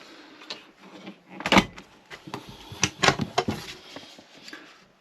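A salad drawer in a Thetford fridge inside a caravan slides open with plastic rattles and knocks, a handful of sharp clatters spread over a few seconds at close range.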